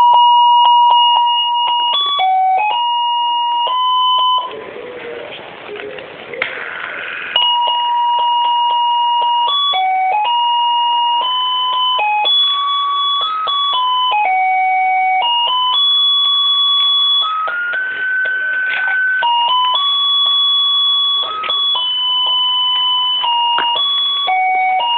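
A battery-powered Christmas Santa toy plays a loud, electronic, beeping melody of steady square-wave notes, with a short burst of buzzy noise partway through, all without speech.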